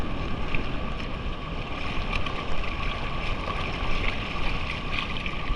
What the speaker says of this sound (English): The ocean is so cool.